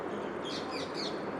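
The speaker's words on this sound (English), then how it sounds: "That bird is not going to stop, I think." A small bird chirps a few short, faint tweets somewhere in the background over a steady broadband room hiss, with no one talking.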